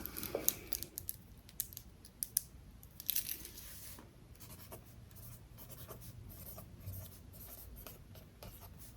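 A pencil scratches across paper in close, soft strokes, with brief scratchy bursts and continuous scribbling. No voices.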